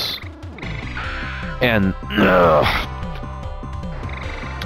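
Toads croak loudly and rhythmically in the jungle stage of the arcade shooter Dragon Spirit, with chiptune music, electronic bursts and swelling effects layered over the croaks, and a single spoken word in passing.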